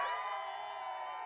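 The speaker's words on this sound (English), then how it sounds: "Let's start out with a cheer." A pre-game tailgate crowd at an NDSU vs UND football game lets out a sustained cheer, a sudden loud collective shout that trails off slightly over a second.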